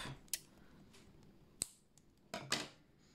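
Scissors snip crochet yarn in a few sharp, close cuts spaced apart, quiet between snips with no talking.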